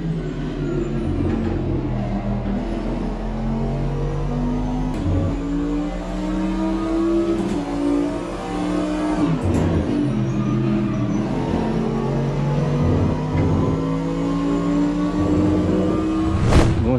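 Race car engine in a racing simulator, modelled on the Barcelona circuit, droning steadily through shifting revs and repeated gear changes for the whole stretch, loud and close with no talk.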